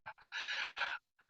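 A dog close by making a few short breathy snorts and rough snoring pants in quick uneven bursts, followed by a brief pause and a faint final breath.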